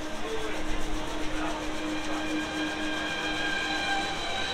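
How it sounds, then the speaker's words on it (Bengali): A new Krishnanagar–Amghata local train pulls away from a station in West Bengal, with a steady rumble and faint rail hum and whine heard from nearby at a fairly even, moderate level, with no talk. "দেখো এই যে আবার ট্রেন ছেড়ে দিয়েছে।"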